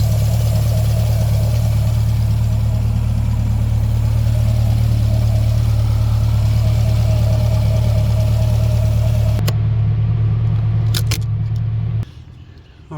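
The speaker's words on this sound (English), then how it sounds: "Engine runs great." A 2020 Corvette Stingray's 6.2-litre engine idles with a steady, loud, low drone for about nine seconds, then the sound abruptly thins, with a few faint clicks before it drops off.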